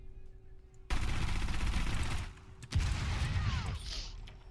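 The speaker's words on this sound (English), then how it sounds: "I'm pretty sure I just shot that thing" Gunfire in a Red Dead video game: two bursts of rapid, loud shots, each lasting over a second and a half with a short gap between, and no talk.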